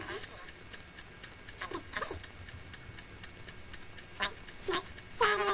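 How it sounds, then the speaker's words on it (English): A mysterious ticking noise, steady evenly spaced clicks repeating like a clock throughout, fairly faint, with short vocal sounds interjecting over them. "You've got mysterious ticking noise."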